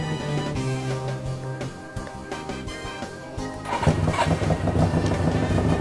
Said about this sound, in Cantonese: 撳個掣架車就會自動撻着